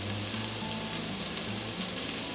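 Raw broccoli hits a hot pan with garlic in oil and sets off a loud, continuous hissing sizzle close by, with a low background hum running beneath it.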